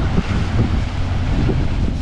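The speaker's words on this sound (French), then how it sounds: "Aujourd'hui il y a pas mal de vent" Steady seaside wind on the Côte Vermeille coast roars and buffets close to the microphone, a continuous low rumble with no voices.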